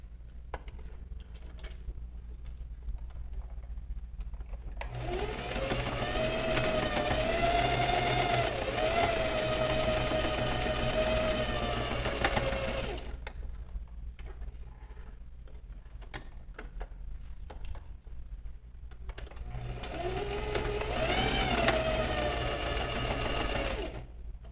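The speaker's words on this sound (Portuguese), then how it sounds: "eu vou passar uma costura desse lado e desse lado, prendendo o fundo nas laterais da peça." A sewing machine stitches a bag seam, attaching the bottom to the side panels, running steadily for about eight seconds, pausing, then starting again for a shorter burst, close and fairly loud.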